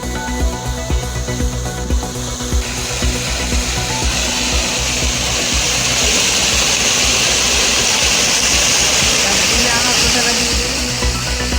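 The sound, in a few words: water gushing fifteen metres high from 500-foot borewell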